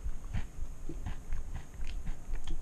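Close, steady crunchy chewing with repeated bites and munches, no talking.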